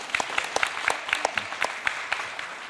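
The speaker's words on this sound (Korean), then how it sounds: "오늘만 박수 한번, 격려의 박수 하십시다." A church congregation claps in encouragement for the choir. The claps are sparse and distinct, evenly paced and moderately close, coming from a small number of hands rather than a full crowd.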